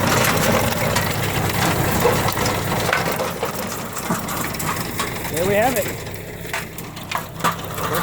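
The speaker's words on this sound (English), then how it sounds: "Tiller works like a charm." A John Deere 550 tiller runs with a steady mechanical churn and rattling gear noise close by, someone briefly speaking over it near the end.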